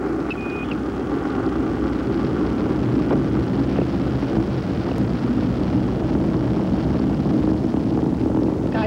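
Space Shuttle Discovery's engines on the 1990 STS-41 Ulysses launch during the roll maneuver, a loud, unbroken broadband roar rumbling steadily throughout with no pauses.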